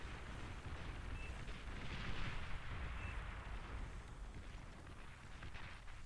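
An artillery battle in the strategy video game Beyond All Reason: a continuous low rumble of distant shelling and explosions that blend into a dense, faint roar with no distinct individual blasts.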